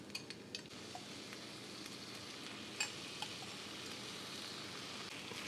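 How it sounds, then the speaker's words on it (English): Ground beef and eggs fry with cheese and salsa in a pan, giving a soft, steady sizzle with a few light clinks and stirring scrapes early on. "we're just going to let that ground beef cook in there with the eggs"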